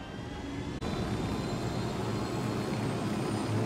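Helicopter in Ghost Recon Wildlands gives a steady, loud, broadband rotor and engine roar that holds continuously with one brief dip near the start, no talk over it.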